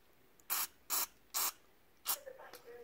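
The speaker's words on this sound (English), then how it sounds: "I'm just shooting this cleaner all through these holes just to make sure all this is nice and clean." Cleaner sprayed through the holes of a snowmobile carburetor, three quick hissing bursts followed by a fourth that trails into small sputters, close and crisp against a quiet background.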